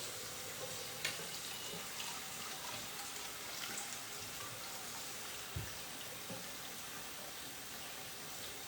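Tap water runs steadily into a kitchen sink as a continuous broadband rush, with a few small clunks and splashes over the constant flow.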